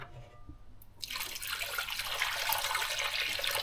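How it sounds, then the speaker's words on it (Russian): Water pours steadily into a pot for fish soup, starting after a quiet moment and continuing as a constant splashing rush, close by, with no talking. "Заливаем это все водичкой."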